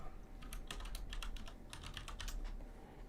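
Rapid clusters of keystrokes on a computer keyboard clack close by in uneven bursts, quiet and with no voices.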